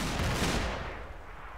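An explosive charge detonating in the ArmA 2 video game, a single loud close blast with a long rumbling decay.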